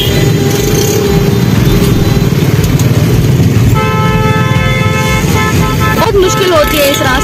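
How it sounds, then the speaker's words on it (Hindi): Heavy city traffic jam: a dense, loud rumble of idling cars and motorcycles with repeated overlapping horn toots and longer honks, a sustained blare near the end, and a person talking over the noise. "ट्रैफिक लगी पड़ी है, रास्ता जैम हो गया है"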